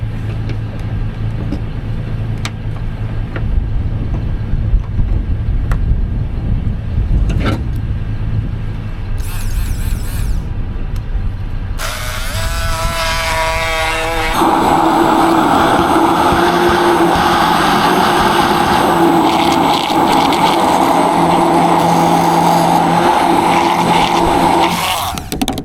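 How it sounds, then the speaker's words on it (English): A blender whirs loudly as it purees clam aguachile, running off the back outlet of a Toyota Tacoma at the beach; after a few seconds of wind and rustle it starts up and holds a steady motor drone to the end. "how are you gonna blend that Auguachile?"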